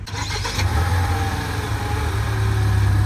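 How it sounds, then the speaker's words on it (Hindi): A Tata Harrier's 1.5 litre petrol engine idles just after a cold start, a steady low hum that settles and runs on evenly for a few seconds, nearby and alone. "इंजन की आवाज़ तो मैं आपको इसी में ही सुना देता हूँ"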